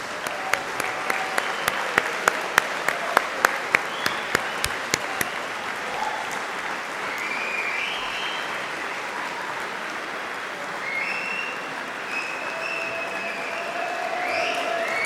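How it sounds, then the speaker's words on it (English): Long, enthusiastic applause from a large graduation ceremony crowd in a hall, steady and fairly distant, with a run of regular sharp claps or beats standing out over the first few seconds. "a big round of applause."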